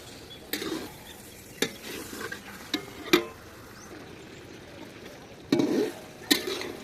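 Chicken is stirred into spices in a pan, with a soft sizzle beneath sharp, intermittent scrapes and knocks of a spoon against the metal, quiet and close.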